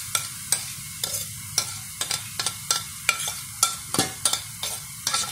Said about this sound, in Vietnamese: Nóng rồi mình sẽ đổ hết cái số muối này vô nha các bạn